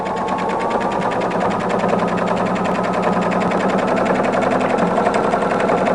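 A sewing machine runs continuously while stitching a rag quilt, a loud, steady mechanical hum with a fast repetitive stitching rhythm and no pauses.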